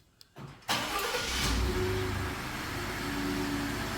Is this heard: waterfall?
no